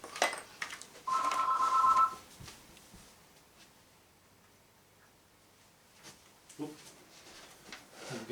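A telephone rings in a home art studio with one bright electronic trill burst lasting about a second, followed by quiet room sound and faint scattered clicks and knocks.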